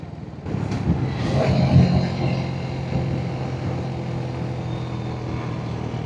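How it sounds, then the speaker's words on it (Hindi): A vehicle engine holds a steady low drone under engine braking on a mountain road between Lohaghat and Dharchula, rising briefly near the start and then settling into a continuous rumble. "गजब इंजन ब्रेकिंग चल रही है।"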